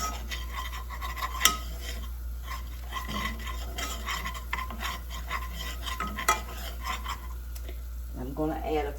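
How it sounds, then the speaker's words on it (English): Spoon stirring all-purpose flour into melted butter in a pan to make a roux, steady scraping and light clinks over a low hum, with faint sizzling and a voice speaking near the end. "I'm going to add 2 tablespoons of all-purpose flour and stir that in"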